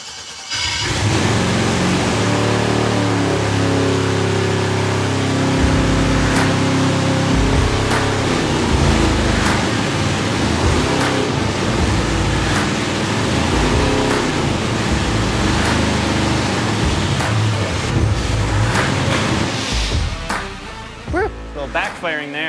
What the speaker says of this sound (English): Backfiring there.